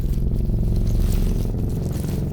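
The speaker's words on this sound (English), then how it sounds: "moving those rocks" Heavy rocks being shifted and dragged, a loud continuous grinding scrape with low rumbling clatter, close and sustained throughout.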